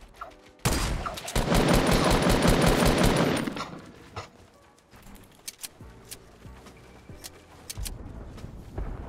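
SMG gunfire in a Fortnite Battle Royale duos match: a loud, rapid automatic burst of about three seconds, then scattered quieter single shots and game noises, with no talking.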